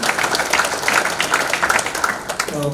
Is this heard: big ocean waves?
no